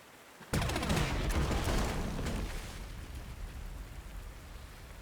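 Rain in the World War II strategy game Panzer Corps 2, heard as a sudden loud burst of crackling rumble that sustains, then settles into a steady hissing downpour.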